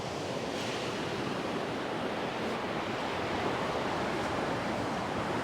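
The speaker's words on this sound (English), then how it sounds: "You can see where the waves are breaking on that sandbank there" Waves break on a sandbank at sea in a continuous broadband roar, fairly loud and steady, with faint wind noise on the microphone and no talking.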